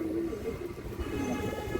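Female pigeon cooing softly in low repeated throaty notes over a noisy background of faint room sounds.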